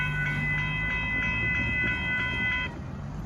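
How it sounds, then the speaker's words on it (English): Southbound Amtrak Texas Eagle passenger train number 21 rolls past at Dittmar Road in south Austin, a loud steady rumble of wheels and cars with a sustained multi-tone horn blast that cuts off near the end. "There goes Southbound Amtrak Texas Eagle train number 21 going by."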